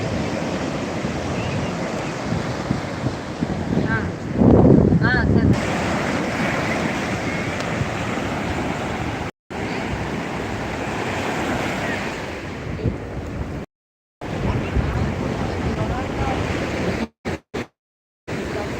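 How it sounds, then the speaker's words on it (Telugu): Ocean waves wash and roar steadily on a beach during Ganesh idol immersion, with gusty wind buffeting the microphone, a few abrupt cuts breaking the continuous surf noise. "ఈ సముద్రాన్ని ఎట్టే వెనక్కి తీసుకెళ్లాలని చూస్తున్నాడు ఆంజనేయులు"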